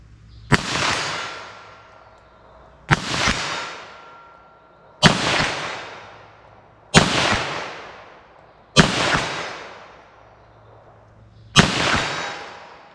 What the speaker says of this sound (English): I'll fire a few more.